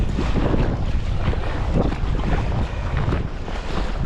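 A sea kayak pushes head-on into strong headwind and waves off the coast near Sundsvall. Wind roars steadily across the microphone while water splashes and churns, loud and continuous with no voices.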